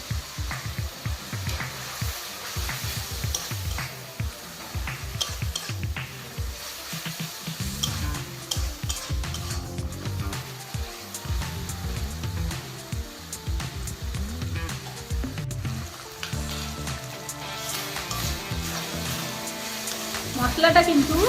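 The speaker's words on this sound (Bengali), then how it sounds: "মশলাটা কিন্তু এইভাবে একটু ভালো করে একটু ভেজে নিতে হবে" Ginger and garlic paste fries in a pan for a prawn malai curry, giving a steady, busy sizzle with frequent stirring scrapes that carries on throughout and swells slightly louder at the end.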